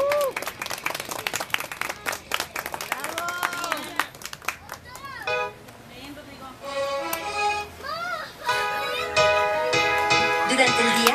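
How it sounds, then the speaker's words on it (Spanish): Guests clap and cheer at a child's birthday party, applause mixing with children's voices, singing and a loud music track, all fairly busy and close. "¡Fuerte el aplauso, por favor!"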